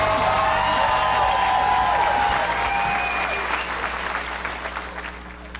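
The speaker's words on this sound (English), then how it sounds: "Round of applause for Bill Darnell." A comedy club crowd applauds comedian Bill Darnell as he is brought to the stage. The dense clapping is loud at first and thins out over several seconds, with a few whoops mixed in.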